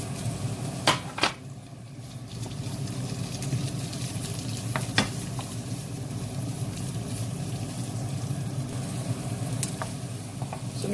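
Onion frying with browned garlic in a pan for spicy pork ears, a steady sizzle with occasional sharp clinks of a utensil against the pan.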